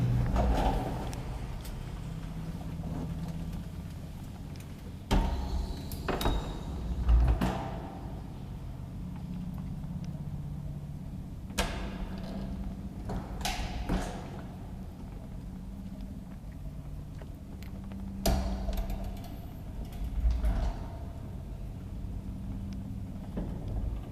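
The doors of a 1935 Kone traction elevator in Helsinki, still original, slide and thud at intervals over a low mechanical hum, sounding fairly faint.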